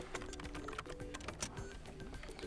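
Fingers typing on a computer keyboard, a quick run of close, light key clicks with no talk, faint overall.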